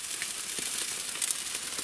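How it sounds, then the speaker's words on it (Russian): Crayfish sizzle steadily on a hot grill grate, a dense crackling hiss with no talking. "раков поместили на гриль, на решетку, и жарим до красного яркого цвета"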